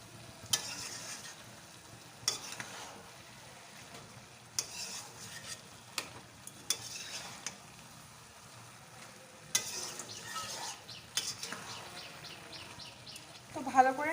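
A spatula stirs a vegetarian cabbage dish in a pan, making quiet, intermittent scraping strokes over a faint low sizzle, with soft clicks and a few chirpy sounds near the end.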